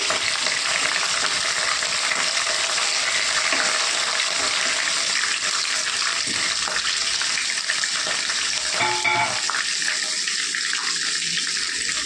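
Green chillies and broken dried red chillies fry in a pan of oil for an okra stir-fry, giving a loud, close, steady sizzle with occasional stirring scrapes and a brief clatter near the end.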